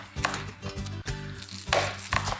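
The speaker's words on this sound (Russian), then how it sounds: "Алико, мне нужно порезать лук" Onion is chopped with a knife on a board, about half a dozen crisp, fairly loud cuts in an uneven rhythm with no talking.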